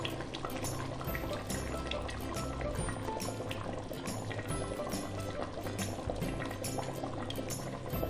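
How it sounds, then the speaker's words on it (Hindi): Oil poured into a cooking pot while making Pakistani-style aloo gosht with fenugreek, giving a continuous sizzling, bubbling crackle that stays steady and fairly close throughout. "इसमें जाएगा ऑयल"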